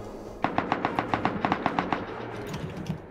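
Rapid automatic gunfire in the survival game Rust, a fast regular burst of about a dozen sharp shots, loud and close, then fading into a brief tail.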